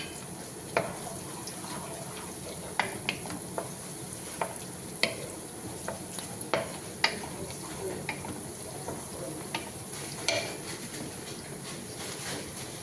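Biryani flower, curry leaves and spices frying in a pan, a steady low sizzle broken by scattered sharp clicks and scrapes of stirring, close and moderately quiet with no talking.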